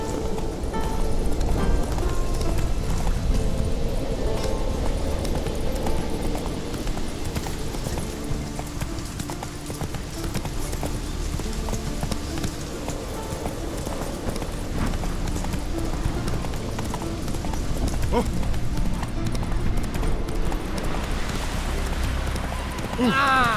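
Horse hooves galloping in the video game The Witcher 3, a continuous loud rumble of hoofbeats running throughout, with game sound and voices mixed in.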